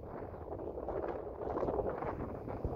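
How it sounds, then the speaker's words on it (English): Wind buffeting outdoors at a plein air oil painting spot, a continuous low rushing roar that swells and eases with no clear gaps, no voices over it. "All right, a little bit of wind."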